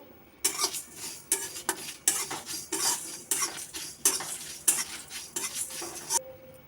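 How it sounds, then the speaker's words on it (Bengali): A utensil scrapes and clinks against a pan in quick bursts while dry-roasting four chillies with two spoons of panch phoron, the metallic stirring close and fairly loud, ending abruptly. "4টে লঙ্কা নিয়েছি আর 2 চামচ 5 ফোড়ন নিয়েছি। এটা প্রথমে নেড়ে নেব।"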